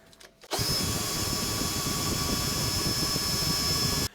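A power drill starts abruptly and runs at a steady, loud whine for a few seconds before stopping.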